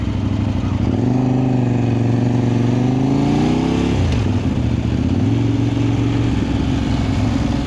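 Kove 800X Pro adventure motorcycle running low on fuel on trails, its engine droning loud and close with rising and falling revs, briefly dipping midway before pulling again.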